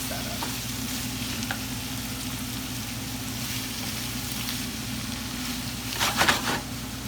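Ackee and saltfish with black pepper is stirred in a pan, giving a steady, even sizzle close by, with a brief burst of louder scraping and clattering near the end.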